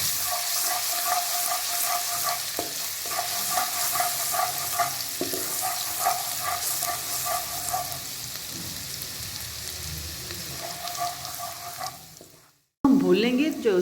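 Ginger garlic paste frying in hot ghee for chicken fried rice, a loud continuous sizzle with stirring scrapes that fades before a brief silence and a sharp new burst of sizzling.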